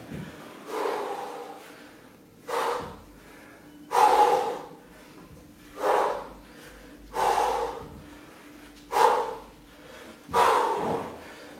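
Heavy breathing during a plank and push-up workout, with seven or eight loud, forceful breaths coming every one to two seconds in a regular rhythm, close to the mic and with no talk.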